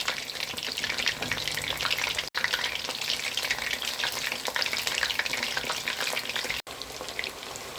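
Chicken 65 pieces deep-fry in hot oil with a dense, continuous crackling sizzle, close and steady, broken by two brief cuts of silence.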